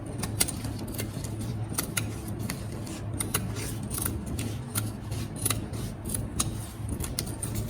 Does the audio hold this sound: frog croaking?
no